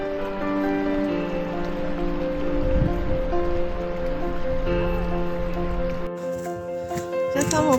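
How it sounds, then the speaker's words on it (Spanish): Steady rain patters on a rocky Patagonian hiking trail toward Laguna Torre and Fitz Roy, a dense wash of drops running throughout with a brief dip near the end, and a faint voice and tonal hum woven in. "llovió todo el camino"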